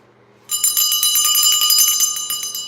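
A small ritual bell rings rapidly and continuously for about two seconds, a bright, close metallic jingle starting abruptly from silence and tapering slightly at the end.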